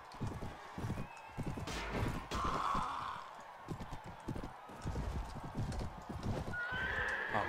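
Horse neighs and whinnies over a steady clip-clop of hooves in the medieval battle game Mount & Blade: Warband, with loud, busy combat noise around them.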